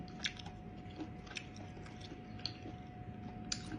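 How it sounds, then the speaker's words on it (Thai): Someone chews squid tentacles at a night market near a railway, with soft, close crunches and wet bites scattered at an irregular pace over a faint steady background tone. "กินกันหนวดปลาหมึกอร่อยอ่ะ"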